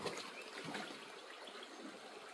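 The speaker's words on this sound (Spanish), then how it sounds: "Aquí está la corriente, señores." A creek flows in a steady soft rushing trickle, faint and continuous, with no voices over it.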